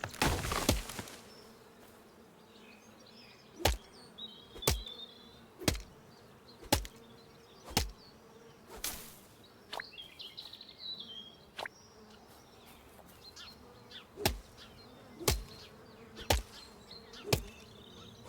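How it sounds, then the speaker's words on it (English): Bees hum in the background of a video game, a faint buzzing drone broken by regular sharp clicks roughly every second, with no voices over it. "There are bees around here"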